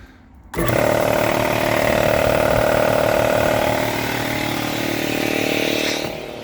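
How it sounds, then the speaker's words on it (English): An air compressor in a garage shop with tin walls starts abruptly and runs with a loud, steady mechanical drone and chugging motor rhythm close by, easing slightly toward the end, with no talk. "tin walls and nothing around the compressor does absolutely nothing for noise abatement at the moment"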